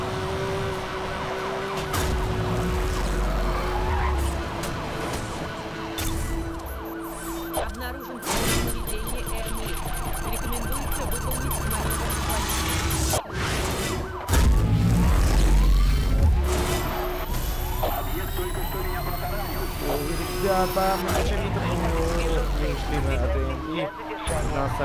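Wailing police car siren in a racing video game, looping electronic sirens over engine and tyre noise, with a voice talking throughout.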